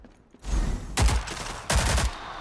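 Two loud bursts of automatic gunfire tear through a wall in the Rogue Company video game, following a quieter opening shot, each volley sharp and close.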